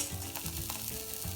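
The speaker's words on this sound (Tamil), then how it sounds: "பொரியும் பருப்பு" Lentils for pasi paruppu payasam fry faintly in a pan, giving a soft, close sizzle with light scraping and stirring clicks throughout a brief stretch, with no one talking.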